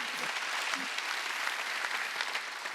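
Congregation applauding during a Wednesday worship service at a church, a sustained, even roar of many hands clapping at full volume, with faint voices mixed in.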